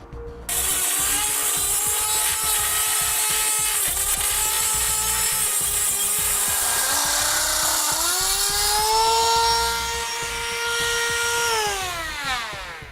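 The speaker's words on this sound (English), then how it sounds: "you're better off using a grinder or a rotary tool for this" An angle grinder cuts into the hardened steel bumper beam of a 2017 Ford Focus, giving a sustained high, gritty whine with a tone that shifts and sags under load before spinning down at the end.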